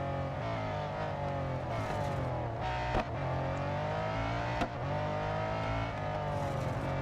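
A race car engine in the mobile racing game Real Racing 3 drones loud and steady, its harmonic pitch climbing and dipping as the car accelerates down a straight, with two brief sharp shifts or clicks along the way.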